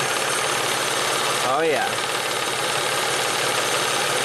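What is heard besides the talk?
car engine idling, worn timing belt tensioner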